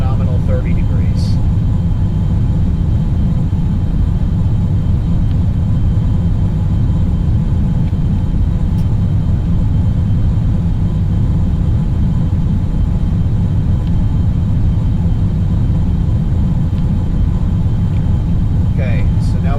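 XR-2 spaceplane engines throttling up for orbit in the Orbiter space sim game: a loud, steady, unbroken roaring rumble throughout.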